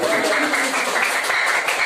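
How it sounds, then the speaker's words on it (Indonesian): A classroom of eighth-grade students claps for Riki's group, a dense, even patter of many hands lasting a couple of seconds, close and fairly loud. "Kasih tepuk tangan yang lebih meriah."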